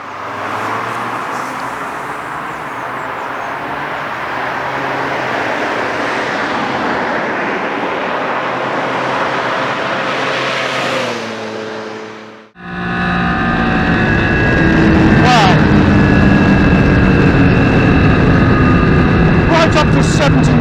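An adventure motorcycle at speed, up to about 70 mph, with steady engine drone and loud rushing wind buffeting behind the front screen, one brief dip and then a return to constant roar.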